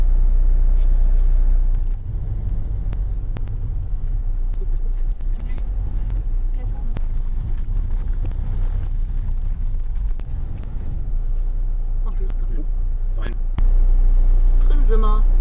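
Cars rolling off a ferry in Scotland give a continuous low engine rumble with occasional hiss and clunks, moderately loud throughout, while voices talk faintly in the background.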